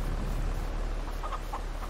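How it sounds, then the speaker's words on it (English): Chickens on a farm in Farming Simulator 22, on the Haut Beyleron map, give a few short, faint clucks late on over a constant low hum of game ambience. "we are here at the chickens"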